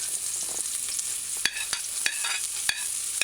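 Diced onions sauté in coconut oil in a pan, a steady soft sizzle punctuated by several sharp utensil scrapes and taps as they are stirred.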